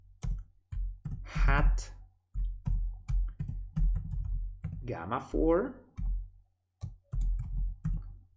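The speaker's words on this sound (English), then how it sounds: "enter on the keyboard, we continue below" Computer keyboard keystrokes click sharply and intermittently while statistics code is entered in R. Someone speaks continuously over them, and his voice is louder than the typing.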